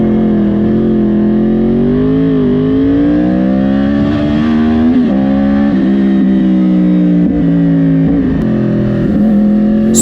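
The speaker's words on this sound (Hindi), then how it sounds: "अभी जो मैं बाइक चला रहा हूँ वो है 2013 यामाहा R1" A 2013 Yamaha R1 with a 998cc liquid-cooled inline four-cylinder engine, heard from on board as the rider accelerates, loud continuous engine drone rising and dipping with throttle and gear changes, with wind noise.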